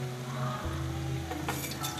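Mustard seeds splutter in hot oil as the tempering for a ridge gourd curry with telagapindi begins: a steady, close sizzle with a low hum underneath, and a few sharper pops and crackles near the end.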